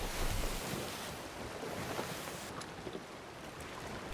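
Ocean waves wash steadily around a sloop sailing at sea in the Sea of Thieves game, a continuous broadband surf roar with wind noise, fairly loud and unbroken throughout, with no voices.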